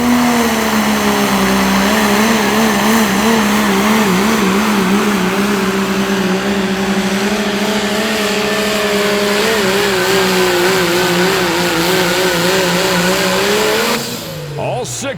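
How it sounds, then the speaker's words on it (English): A diesel pulling truck on DOT tires, its engine roaring loud and sustained with a wavering pitch under heavy load as the tires churn, then cutting off abruptly near the end. "Six of those DOT tires churning hard right at the very end"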